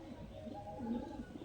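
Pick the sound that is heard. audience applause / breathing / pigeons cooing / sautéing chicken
pigeons cooing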